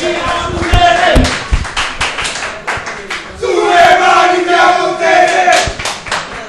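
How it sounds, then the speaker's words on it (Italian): A crowd at the inauguration of a Pescara football supporters' club in Cepagatti bursts into loud applause with cheering voices. Sharp claps and shouts rise, dip briefly, then swell again across the whole stretch. "un applauso."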